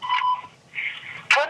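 A telephone number is dialed on a phone. A few short electronic keypad tones sound in quick succession, clear and close, with faint background between them.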